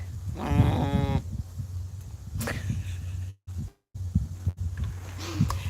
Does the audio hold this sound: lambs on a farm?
yes